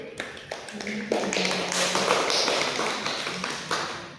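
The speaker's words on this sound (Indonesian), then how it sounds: "Jadi mari kita kasih aplaus dulu." A classroom of students claps for a group presentation in a physics lesson, a dense burst of applause that swells after the first second and carries on steadily before tapering off.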